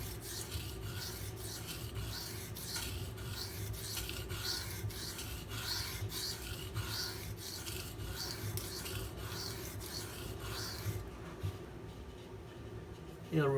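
A Spyderco Para 3 knife blade being sharpened on a stone, with steady repeated rasping strokes in an even back-and-forth rhythm, close and fairly quiet, ending in a brief pause and a handling knock.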